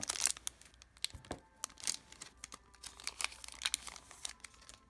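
Plastic foil wrapper of a Dragon Ball Super card game booster pack crinkles and tears in small, irregular bursts, close and fairly quiet.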